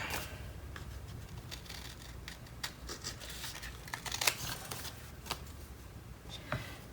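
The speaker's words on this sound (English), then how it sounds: "trim the corners." Scissors trim paper corners for a Christmas mini album, quiet snips and small paper rustles in close succession, faint throughout with no talking.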